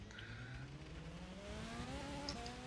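A Formula-style race car in a German Grand Prix racing video game, its engine note climbing steadily through the gears with a brief tire squeal under braking, other cars faintly audible behind it.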